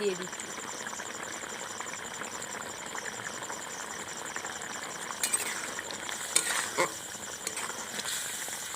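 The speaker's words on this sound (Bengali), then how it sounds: "ঘি দিয়ে ভালো করে নেড়ে চেড়ে নিয়েছি।" Ghee being stirred into aloo dum, a potato curry, in a pan, giving a steady soft sizzle and frying hiss with scattered scraping and stirring clatter that rises near the end.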